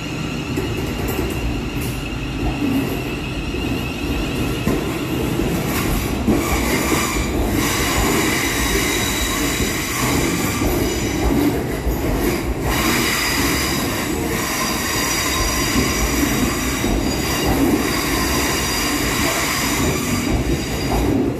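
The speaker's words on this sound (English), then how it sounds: "Next train out is 350129, working the 1322 London Northwestern Railway service to Crewe." A Class 350 electric train, unit 350129, pulls out of Birmingham New Street station with a sustained rumble, wheel squeal and rhythmic clicks over the rails, loud and near throughout.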